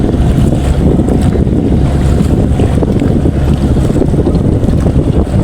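A boat travels on the Buriganga river during the rainy season, its steady low engine drone mixed with rushing water and heavy wind buffeting the microphone, loud and continuous with no talk.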